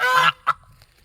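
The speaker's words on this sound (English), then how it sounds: "the geese saw me, so they're vocalizing" Geese honk nearby: one long loud honk followed by a shorter one, then a faint distant call.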